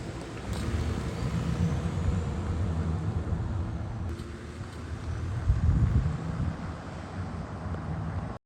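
Bone-stock Ford 3.5 EcoBoost with only a cold air intake, idling and running with a low, steady exhaust rumble and a slight swell midway, windy outdoor noise over it, no voices.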